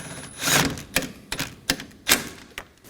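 A ratchet clicks in short, uneven bursts as a 7mm active grille shutter bolt on a 2018-2024 Chevrolet Equinox is snugged down, several sharp metallic clicks close up.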